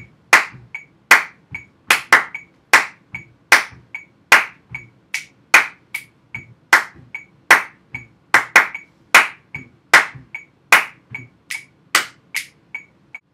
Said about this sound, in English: Stomp and clap, part C at 150.